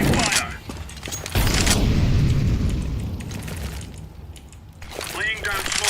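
Incendiary grenade in a mobile shooter game erupting into fire with a dull boom, then a sustained roaring burn of low rumbling crackle lasting several seconds, with voices talking over it at the start and end.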